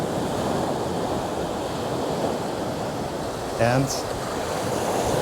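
Ocean surf rolls steadily onto a beach in Aruba as a continuous loud wash, with wind buffeting the microphone and a brief voice.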